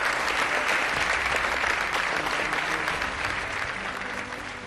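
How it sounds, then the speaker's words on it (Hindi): A hall full of people gives thunderous applause, dense continuous clapping that stays loud throughout and tapers slightly toward the end, with no talking heard. "तालियों की गड़गड़ाहट गूंजने लगी"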